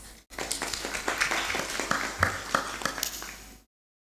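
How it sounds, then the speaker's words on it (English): Audience at a conference session in Lao PDR claps to welcome a speaker, a modest round of individual claps rising and tapering over about three seconds before stopping cleanly. "Please welcome her with a big round of applause."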